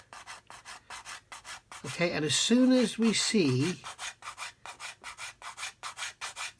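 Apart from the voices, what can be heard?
coarse sanding stick rubbing over model kit surface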